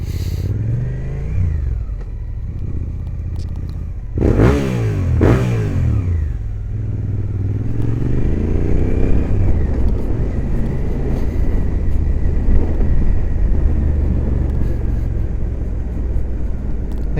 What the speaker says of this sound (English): they keep twisting their wrists to make you rev the engine